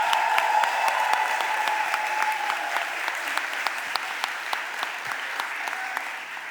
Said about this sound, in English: Can we all give a round of applause to the young people from Jubilee that's here?